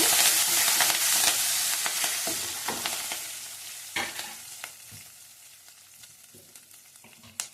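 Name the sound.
dried red chillies and curry leaves sizzling in pan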